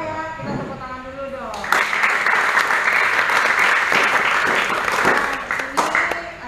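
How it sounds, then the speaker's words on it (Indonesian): Applause from a gathering of women riders and a bikers brotherhood motorcycle club in Bali, breaking out after a voice speaks and continuing as energetic group clapping, with talk resuming near the end. "kita tepuk tangan dulu"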